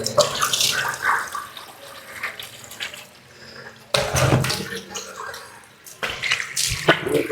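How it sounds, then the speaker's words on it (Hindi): A tap opened only slightly runs steadily while water is splashed onto a face, with bursts of splashing and dripping close by and no talk. "3 दफा पानी अपने फेस पे आपने डालना है।"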